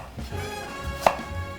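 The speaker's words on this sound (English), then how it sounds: "I'm just now going to slice around the core." A knife cuts through a peeled apple around the core, giving one short, crisp chopping snap amid quiet kitchen background.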